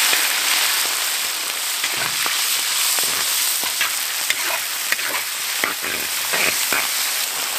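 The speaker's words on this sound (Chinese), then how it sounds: "炒到香喷喷的时候来点长江水" Spices stir-frying in hot oil in a wok for braised pork hock, a loud continuous hiss of frying with scattered crackles and the clack of stirring, no talk.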